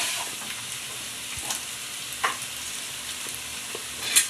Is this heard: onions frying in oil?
yes